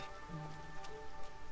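Rain in the video game Sword of Justice falls as a soft, quiet patter with a few faint tonal game sounds layered over it and no speech.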